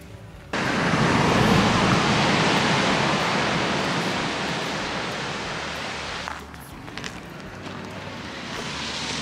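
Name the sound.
waterfall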